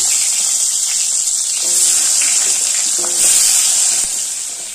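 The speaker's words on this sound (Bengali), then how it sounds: "আলুটা তেলে ভেজে নেব" Strips of potato fry in hot oil with a steady, bright sizzle throughout, swelling slightly at moments, with a few faint clinks near the pan.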